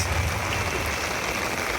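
Light drizzle falls on a rooftop garden in Dhaka among potted Malabar spinach, sweet potato and chili plants, a steady soft hiss of fine rain without pause.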